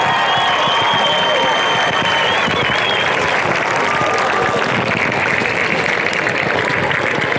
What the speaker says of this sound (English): Austin Blankenship gets a great round of applause